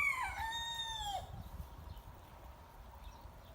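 A rooster in a flock of free-range village chickens gives one loud, clear crow over about a second, then the yard stays noisy with low rustling and faint background sound.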